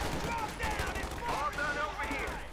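Gunfire in the real-time strategy game Company of Heroes 2 rattles in bursts through a 1v1 match, mixed with loud, steady battle noise under a commentator's voice.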